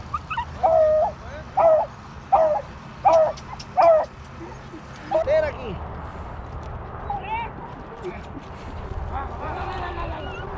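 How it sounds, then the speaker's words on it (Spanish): Beagles hunting rabbits bark in a string of sharp, evenly spaced yelps up close, then fainter, scattered barks and whines follow over outdoor ambience, with people talking intermittently. "hasta la Taira lo ladra, papá"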